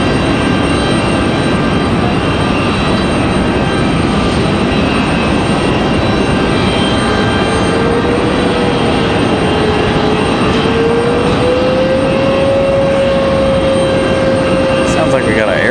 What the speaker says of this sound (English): So here comes our E175 from Dulles.